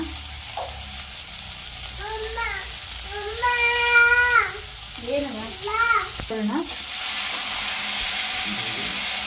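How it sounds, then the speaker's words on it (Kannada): Spices, mint and coriander for mutton biryani frying in a pan, a steady sizzling hiss with a few brief whistling chirps rising over it partway through. "ಈ ಥರ ಚೆನ್ನಾಗಿ ಫ್ರೈ ಮಾಡ್ಕೊಳ್ಬೇಕು."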